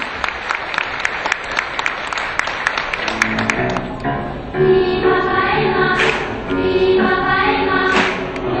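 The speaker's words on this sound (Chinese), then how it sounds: "掌声鼓励。" An audience claps for a children's choir performance, a dense burst of applause for about three seconds, then tonal voices rise and fade over the last of the clapping.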